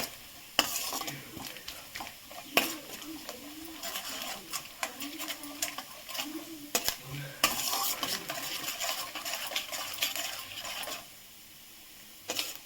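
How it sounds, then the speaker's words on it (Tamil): Banana pieces fry in hot oil in a pan for a sweet snack, a continuous sizzling hiss broken by scraping and clinking from stirring, close by, with a voice speaking over parts of it. "அடுத்தபடியாக இந்த வாழைப்பழத்தை இதில் போட்டு லைட்டாக பொரிச்சுப்போம்"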